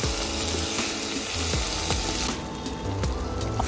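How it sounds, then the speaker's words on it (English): Beef sizzles steadily in a pan for an Indian ghee roast while it is stirred, a dense, close frying hiss with soft scraping strokes throughout. "here you can then add the beef which you had kept aside. And then give this a good stir and let this cook for another 4 minutes."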